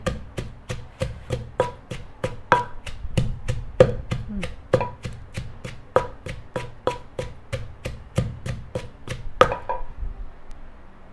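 A pestle pounding a chili pepper dip in a large mortar, about thirty sharp, evenly spaced thuds in a steady rhythm, close up, then stopping.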